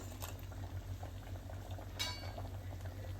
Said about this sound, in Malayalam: ഇനി നമുക്കിതിൽ പുളി വെള്ളം ഒഴിക്കാം